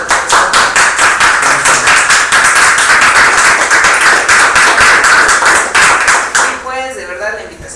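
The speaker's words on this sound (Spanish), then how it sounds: "Vamos a dar un aplauso al doctor Soto." Loud, close applause from an audience at an academic lecture in Mexico City, rapid overlapping claps sustained for several seconds before fading out, with voices briefly audible at the end.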